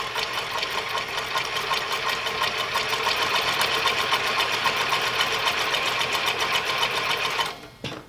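A New Tech GC-20U83 zig zag lockstitch sewing machine stitches in a fast, even mechanical chatter, loud and close, running continuously for about seven seconds before stopping.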